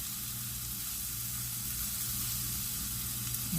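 Asparagus cooking in a pan, a steady continuous sizzle and hiss that holds evenly throughout, close and moderate in level, no talking.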